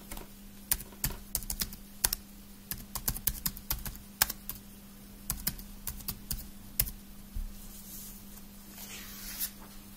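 Typing on a computer keyboard while filling in an online form: fast, irregular bursts of light key clicks with short pauses, close and clear over a faint steady electrical hum, no talking.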